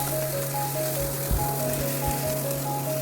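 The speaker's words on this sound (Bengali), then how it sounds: "যে স্কোয়ার পেঁয়াজগুলো ছিল সেগুলো আমি ফ্রাই করতে দিয়ে দিলাম, হালকা ব্রাউনি হবে" Square-cut onion pieces frying in hot oil, sizzling steadily and close with a faint crackle and occasional low clunks, while a steady hum and high tone run underneath.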